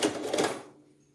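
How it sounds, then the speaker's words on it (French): A sewing machine stitches the side seams of fabric with a close, fast whirring rattle for about half a second, then stops and leaves quiet room tone. "Nous pouvons maintenant effectuer les coutures des côtés"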